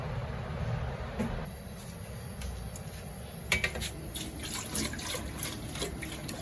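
Water runs steadily from a tap into a vessel in a home kitchen, fed by a motor pump, making a continuous close hiss with a few faint clinks of utensils.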